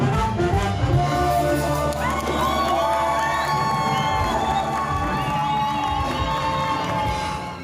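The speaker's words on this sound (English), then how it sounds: "The crowd is loving it." A crowd cheers and whoops at a public rehearsal concert in Lagos, loud and sustained, with excited shouts and high voices over music in the background.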